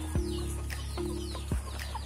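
Chickens waiting hungry for feed, clucking in short bursts over a steady low motor hum from a homemade grass chopper built from an old sewing machine motor.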